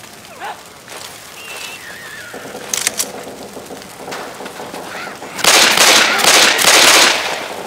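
Gunfire bursts in a Left 4 Dead 2 VR mod game, scattered shots early then a loud rapid volley near the end, mixed with game effects and brief voices.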